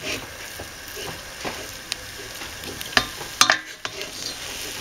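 Choux pastry dough stirred in a pan over heat gives soft scraping and a faint sizzle, with a few sharper clicks of the utensil against the pan near the middle.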